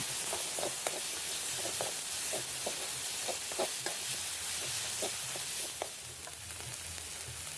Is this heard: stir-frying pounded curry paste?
yes